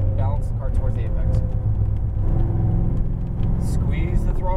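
A Chevrolet Corvette Z06 Stingray accelerates on a track, its engine note climbing in a loud, continuous roar with a voice speaking over it.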